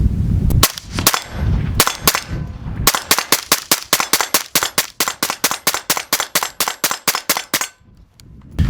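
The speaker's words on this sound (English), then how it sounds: "We did 2 magazines there, pretty rapid fire" A suppressed Gen 3 BRN180 rifle in 5.56 fires rapidly through two magazines: a few loud cracks, a brief pause, then a long, steady run of about two dozen evenly spaced sharp shots close by.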